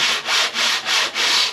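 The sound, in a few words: sanding timber board with 80 grit sandpaper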